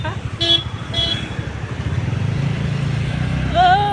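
A motorcycle or scooter ridden along a road, its engine a steady low drone throughout, with a few short tonal blips early on and a rising whine near the end.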